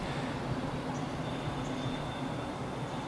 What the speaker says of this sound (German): da kommt gerade ein Zug, oder hier ein Zug